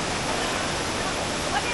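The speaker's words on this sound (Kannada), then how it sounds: "ಇಲ್ಲಿದೆ ನೋಡು ಫಾಲ್ಸ್, ಆಕ್ಚುಲ್ ಫಾಲ್ಸ್." Steady broadband rush of a waterfall in monsoon forest on the Kodachadri trek, a continuous close wash of falling water with no other sounds rising above it.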